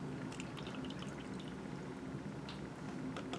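About 100 millilitres of 1 molar hydrochloric acid pours into a lab container, making a faint, steady splashing hiss with a few soft drips, close by and otherwise quiet.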